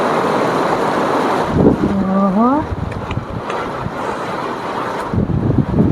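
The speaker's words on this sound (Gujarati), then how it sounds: "જો કેવો વરસાદ પડે છે ધોધમાર।" Heavy rain pours down in a steady, dense roar, driven by strong gusting wind, with a brief tonal call rising near the middle.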